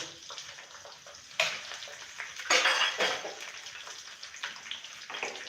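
Green chillies and curry leaves sizzle in hot tempering oil, with bursts of crackling spatter that flare up sharply and then settle into a lighter hiss.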